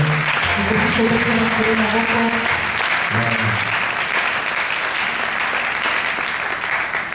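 A church congregation claps and applauds together in a dense, sustained wash of applause that holds steady throughout, with voices and some singing or calling mixed in underneath.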